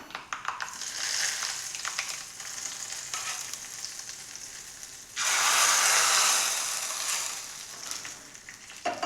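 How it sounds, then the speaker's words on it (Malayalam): Hot coconut oil tempering with mustard seeds and dried chillies poured into a gooseberry pachadi, bursting into a loud, close sizzle midway that fades slowly, after softer frying crackle and stirring. "ഇനി നമ്മൾക്ക് ആ വറവൊന്ന് പച്ചടിയിലേക്ക് ഒഴിച്ചു കൊടുക്കാം."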